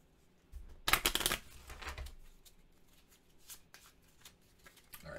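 A deck of cards is riffle shuffled during a solo board game, one sharp, loud burst of fluttering card clicks lasting about half a second, followed by softer handling taps and rustles nearby.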